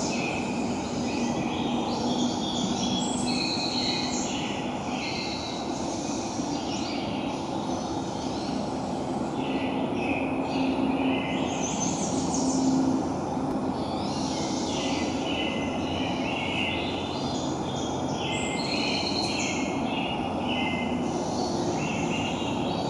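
Forest birdsong, many birds calling and chirping at once in a busy chorus over a steady low rumble throughout.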